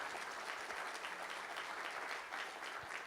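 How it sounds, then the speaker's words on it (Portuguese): Steady, brisk applause from an audience at a credit cooperative pre-assembly, clapping hands heard at a moderate distance for a few seconds. "Essa aqui, mais uma salva de palmas."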